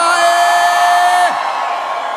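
At a live country music concert, the audience whoops and yells loudly for about a second, the cheer breaking off and fading into a lingering crowd murmur.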